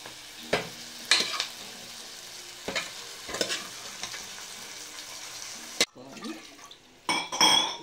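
Gongura leaves frying in a pan while being stirred, with intermittent scraping strokes of the spoon over a soft sizzle, close up; near the end the sound turns to louder splashing clatter.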